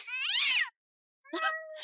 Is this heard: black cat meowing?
yes